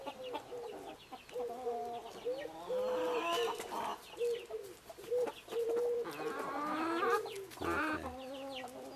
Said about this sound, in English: They all think that there's the rooster right there.